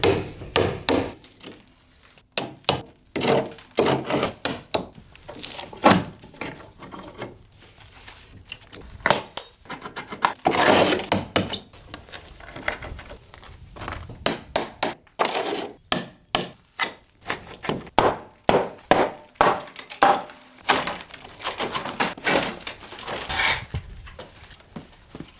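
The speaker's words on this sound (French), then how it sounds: "Pour réussir à tout bien retirer, tu as à présent besoin d'un marteau et d'un burin." Hammer and chisel knocking out old front door fixings in a home renovation: many sharp metallic strikes, single blows and fast bursts, with gaps, close and fairly loud with no talk.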